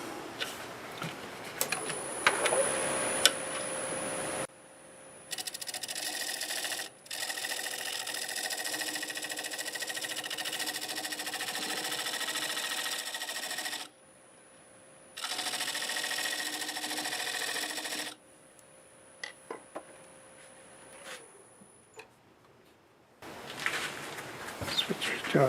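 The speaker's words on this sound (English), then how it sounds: "I might start with a parting tool just to create the tenon" A wood lathe cuts a tenon in a small scrap of olive wood with a parting tool. Steady whirring cutting passes start and stop in several long bursts, close up, separated by short pauses.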